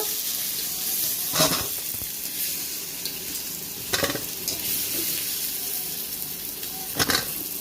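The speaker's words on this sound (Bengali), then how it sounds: "দুটো কাঁচা তেজপাতাও এর সাথে দিয়ে ভেজে নেব কিছুক্ষণ সময় নিয়ে একটু লাল লাল করেই ভেজে নিচ্ছি" Bay leaves frying in oil in a wok, a steady close sizzle with three brief bursts of stirring or spattering spaced a few seconds apart, no voices.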